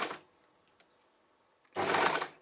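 An overlocker sewing machine stitches fabric in two short bursts of close, rapid mechanical whirring, with a quiet pause between them.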